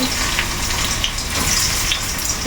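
Small onions (shallots) frying in a pan with mustard seeds, green chilli and chilli powder, giving a steady close sizzle with faint crackles throughout.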